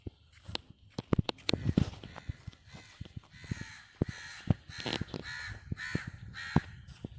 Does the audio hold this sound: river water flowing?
no